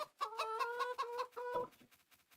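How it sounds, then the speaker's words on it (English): A chicken in the Farming Simulator 25 video game clucks in a quick, repeated series of loud, close, nasal calls, with no talk over it. "That was a chicken."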